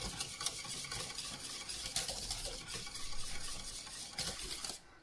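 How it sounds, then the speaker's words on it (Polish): A spoon stirs custard cream for a napoleon cake in a pot, making a continuous scraping, swishing rhythm up close with light metallic contact, until it stops abruptly at the end. "Musimy teraz cały czas mieszać ten krem, aż nam zgęstnieje na taki gęściejszy budyń."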